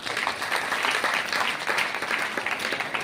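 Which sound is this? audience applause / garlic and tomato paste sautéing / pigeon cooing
audience applause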